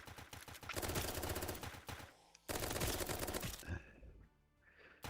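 An AK-47 fires in the Roblox zombie survival game Zombie Rush, loud and close in two sustained rapid-fire bursts of dense automatic shots, separated by a brief pause, then tailing off into quieter sounds.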